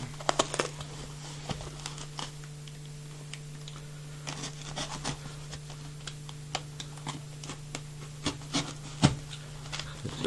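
Scattered scraping, tearing and rustling sounds of a sellotaped box being handled and opened, close and irregular, over a low steady hum.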